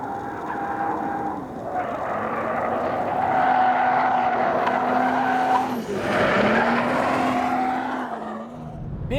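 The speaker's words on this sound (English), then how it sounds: "the best part of hitting the gas on this car is the sound" A 2014 BMW M235i coupe accelerates hard, its engine note rising and shifting through gears with tire squeal layered on top, loud and close with no talking.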